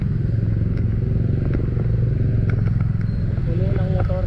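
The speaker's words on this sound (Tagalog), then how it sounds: "Puno ng motor." Motorcycle engines on a busy Quezon City road hum and rumble continuously up close, with clattering and scraping traffic noise and occasional horn-like tones over the top.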